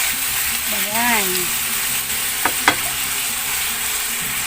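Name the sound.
sautéing chicken caldereta in a pan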